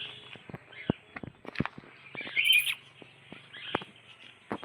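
Lutino cockatiel calling at a zoo park, a few short chirps and one louder shrill call near the middle, mixed with scattered taps and rustling close by.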